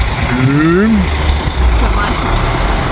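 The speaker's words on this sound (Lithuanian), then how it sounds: "Šiukšlių mašina." A garbage truck rumbles nearby on a street in Egypt, with a steady low engine drone throughout. A voice cuts in briefly near the start.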